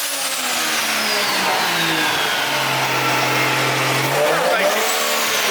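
A Toyota 1JZ engine swapped into a Nissan Silvia revs hard on a dyno, loud and close, its pitch sweeping down and then climbing again in a continuous mechanical roar.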